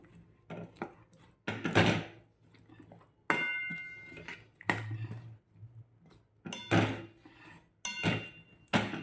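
A spoon stirs spices into an eggplant and potato curry in a pan, making irregular sharp knocks and scrapes against the metal with short pauses between strokes, close and fairly loud.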